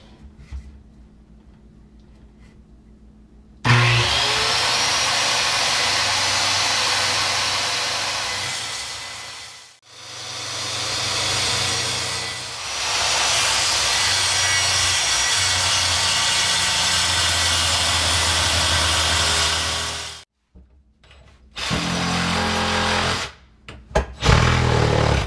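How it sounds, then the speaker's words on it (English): A circular saw cuts through a wood countertop to make an opening for a top-mounted sink, with a loud, steady whine. It runs in two long passes broken by a short pause, then a brief final burst. "we're going with the circular saw just because with using a huge blade on the Sawzall, I couldn't see what I was doing"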